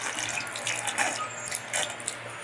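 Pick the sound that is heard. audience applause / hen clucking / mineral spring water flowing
mineral spring water flowing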